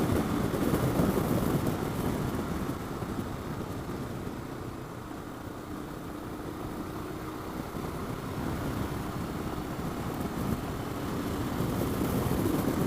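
A Royal Enfield Himalayan motorcycle engine held at full throttle around 5,500 RPM while riding, a steady, loud drone mixed with wind rush that holds throughout with no talk.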